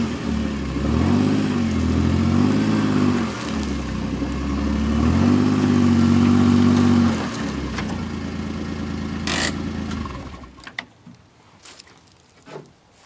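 A truck pulling a log trailer reverses, its engine droning and rising in two drawn-out surges before easing off and cutting out, followed by a few clanks and knocks nearby.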